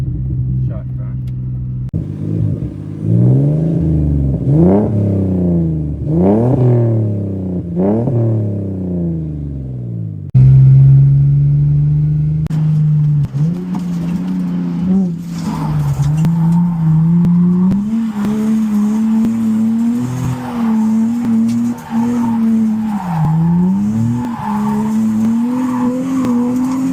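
A BMW E46 Touring wagon lapping a race track, its engine sweeping up and down through repeated revs and shifts, tyres squealing and skidding in bursts, loud and close with voices talking over it.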